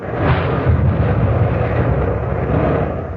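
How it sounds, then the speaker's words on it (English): Naval gun turrets firing in a radio drama, four guns in sustained action: a dense, continuous rumbling roar of heavy gunfire, loud and unbroken, with no voices. "the A and B turrets were firing away beautifully, all 4 guns in white-hot action"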